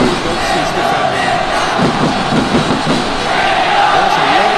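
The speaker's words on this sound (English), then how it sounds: "the crowd's really loud, they just saw some real no-nonsense defending" A loud stadium crowd roars through a football match between Indonesia and Armenia, a dense sustained mass of voices with rising shouts and cheers.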